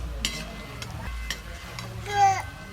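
Chicken pieces frying in a pan for chili chicken give off a low steady sizzle, broken by a few sharp clinks and stirring scrapes of a utensil against the pan, close up.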